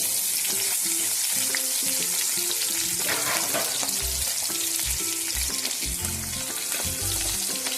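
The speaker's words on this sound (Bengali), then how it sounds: "এবার এই তেলের মধ্যে এই যে বড় বড় সাইজের পেঁয়াজগুলো, এই পেঁয়াজগুলোকে দিয়ে দেব।" Large onions sizzle steadily in hot oil while cooking a jackfruit do pyaza, a close, continuous frying hiss with occasional stirring and background music underneath.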